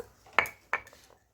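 Two sharp scraping clinks sound as ground ginger paste is scooped off a grinding stone, close and distinct, each a quick stroke with a short pause between them.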